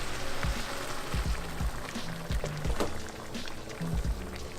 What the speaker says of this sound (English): And now you just add a bunch of boiled water.